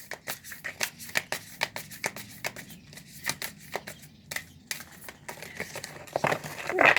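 An oracle card deck is shuffled and single cards are drawn by hand, giving close, papery flicks and riffling snaps in a quick, uneven run that grows busier and louder toward the end.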